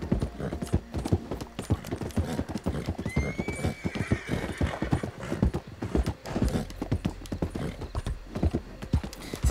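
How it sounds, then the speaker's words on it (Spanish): Horses in the Red Dead Redemption 2 game gallop with rapid, dense hoofbeats and neigh with a high whinny, steady and fairly loud with no talk over it. "al parecer eran caballos"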